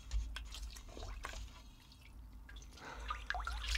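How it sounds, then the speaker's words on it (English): Water dripping from a sponge soaked until saturated, scattered irregular drips and trickles close by, fairly quiet, with no talking. "I've soaked the sponge in water so much so that it can't hold any more."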